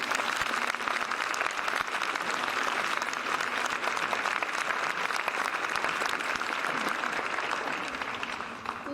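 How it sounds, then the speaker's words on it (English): Another round of steady applause rolls through the audience at a veteran ceremony, many hands clapping evenly for several seconds before it begins to thin toward the end. "Please give another round of applause for our audience"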